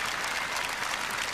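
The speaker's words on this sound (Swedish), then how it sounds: "Vi ger Peter en applåd, eller hur?" Applause from a studio audience at a televised Swedish sports competition show, a short steady burst of many hands clapping, moderately loud and even throughout.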